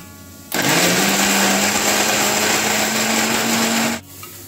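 A small electric mixer grinder whirs loudly while grinding a masala paste for dhaba-style kaju masala, a steady high-pitched motor roar that starts abruptly, runs about three and a half seconds, then cuts off.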